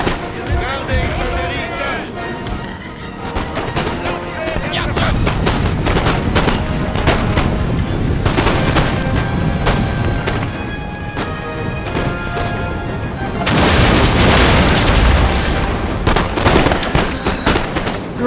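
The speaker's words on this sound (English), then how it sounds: "British opening fire here" Musket volley fire from British infantry in the video game Napoleon Total War, a loud, dense, continuous crackle of overlapping gunshots with heavy rumbling booms throughout a large battle.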